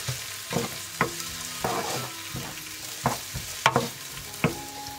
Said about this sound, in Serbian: I pržim luk dok ne omekša.